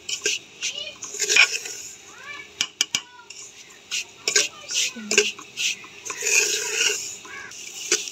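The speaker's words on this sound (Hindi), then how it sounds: "अब इसका चम्मच हिलाना है" A spoon stirring semolina roasting in ghee in a pan at home for halwa, with scattered metallic scrapes and clinks, soft rubbing between strokes and a voice talking over it.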